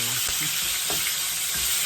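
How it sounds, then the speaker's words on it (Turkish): Food sizzles and crackles steadily in a hot pan, lightly frying for chicken pilaf, with a few soft stirring scrapes over the constant frying hiss. "Fazla kızartmaya gerek yok."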